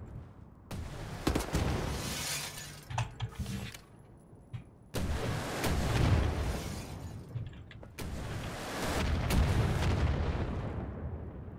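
Heavy blasts and crackling debris fill a Wolfenstein: The New Order firefight as a rocket is fired and detonates, three loud explosive surges with rumbling tails, close and alone.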